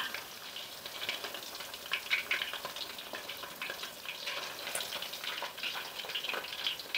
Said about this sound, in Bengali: আমরা এটা 3-4 মিনিটের মতো ভেজে নিচ্ছি।